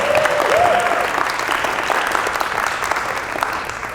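Applause from a conference audience at a youth event, a dense, steady wash of many hands clapping close and loud throughout, with faint voices mixed in.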